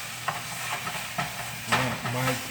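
Ground beef for chili browning in a pot, giving a steady close sizzle broken by several scraping stirs of the meat.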